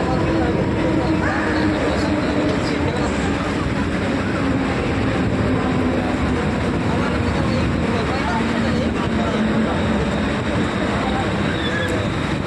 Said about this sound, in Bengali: লোকাল ট্রেনের জার্নি, লোকাল ট্রেনের